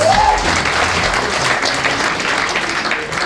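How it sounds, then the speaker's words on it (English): An awards audience applauds at an evening winners' ceremony, a sustained, even burst of clapping from a roomful of people, with a faint voice at the start. "Round of applause one more time, please."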